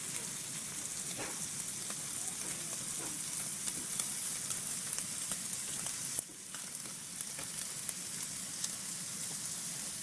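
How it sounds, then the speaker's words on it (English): Milkfish steak (bangus) sizzling in oil in a pan, a steady bright frying crackle with scattered pops that holds for about ten seconds, briefly dipping near the middle. "Today please join me in cooking milkfish steak or Bistek na Bangus."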